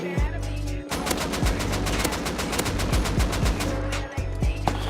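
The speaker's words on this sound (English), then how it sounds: "Damn fireworks, bro." Fireworks go off outside in a rapid, steady string of sharp cracking bangs, like a long firecracker chain, that runs on continuously for several seconds.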